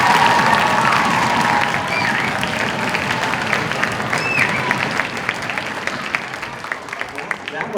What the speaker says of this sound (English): That was a hearty round of applause